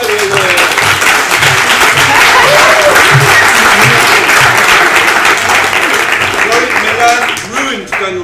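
Audience applause at an academic huddle event, loud and sustained with dense clapping, and voices talking beneath it before it tapers at the end.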